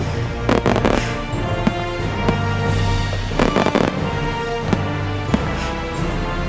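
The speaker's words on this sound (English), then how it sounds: "Oh, and a fireworks compilation." A fireworks compilation plays loudly, with a continuous barrage of bangs, crackles and pops over a dense rumbling background.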